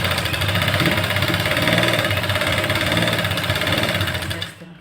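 Sewing machine stitching a double seam on a salwar, a loud, steady, fast mechanical whir and chatter running continuously before stopping abruptly at the end.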